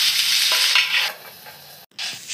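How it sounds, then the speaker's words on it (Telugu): Cut potatoes tipped into onions frying in a pan for a vankaya aloo curry, with a loud, close sizzle and stirring that briefly drops out before the sizzling resumes. "ఆనియన్స్ అన్నీ బాగా ఫ్రై అయిన తర్వాత ముందుగా కట్ చేసి పెట్టుకున్న పొటాటోస్ని వేసుకోవాలి."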